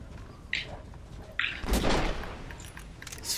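Gunfire from a bear hunt in the video game Red Dead Redemption, with a few separate shots and a louder booming blast in the middle over a low rumbling background, no talking.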